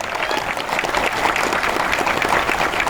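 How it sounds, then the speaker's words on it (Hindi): Sustained audience applause at a business training seminar in Ranchi, a dense, even wash of many hands clapping at close range with no break. "और अब तालियां तेज उम्मीद करता हूं मैं आपसे।"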